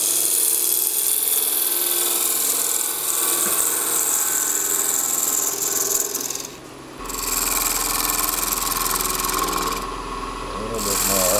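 A smaller woodturning tool cuts a wooden bowl spinning on a lathe, giving a steady, close scraping whir with a brief dip partway through before the cut resumes, and a voice faintly under it.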